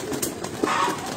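Dub breed pigeons cooing close by, soft throaty coos in a short burst with faint bird movement in the background.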